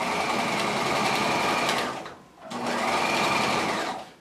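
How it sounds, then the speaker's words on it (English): A sewing machine runs close and loud, stitching the upper collar and facings onto a jacket, in two sustained whirring bursts split by a short pause. "We're going to stitch up to that corner until about 1 stitch away."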